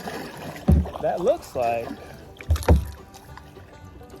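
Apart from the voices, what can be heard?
paddling a kayak through water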